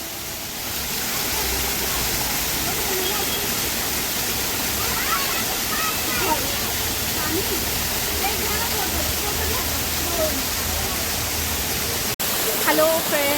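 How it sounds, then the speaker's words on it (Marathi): A small roadside monsoon waterfall pours steadily, a loud continuous rushing wash of water that stays constant throughout, with a brief faint voice near the end. "तर हा आहे छोटा धबधबा म्हटलं होतं ना रोडवरून दिसलेला"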